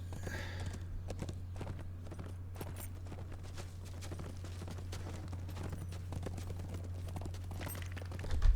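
Horse hooves clip-clop at a steady walking pace in the Lord of the Rings Online video game, approaching Helms Deep, faint under a constant low hum.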